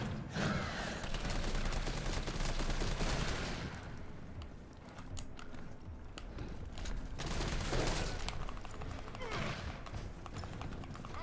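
Gunfire in the video game Resident Evil 3 Remake: bursts of shots and rapid fusillades come in loud clusters with quieter gaps between them, set against an ongoing game soundscape.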